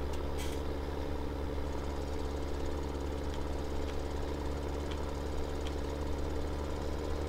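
A vehicle engine runs steadily in Farming Simulator 17, a dense, constant low drone at a fairly loud level with occasional faint clicks near the start and no voices.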